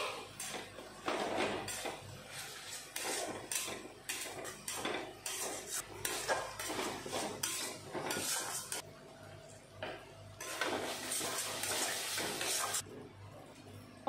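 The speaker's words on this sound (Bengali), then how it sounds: "এখন সবগুলো ভালো করে কষিয়ে নেব।" Spices with salt, ginger paste and garlic paste are stirred and sautéed in a pan for a prawn dish, a spatula scraping and clinking against metal in irregular bursts with a soft sizzle beneath and brief pauses.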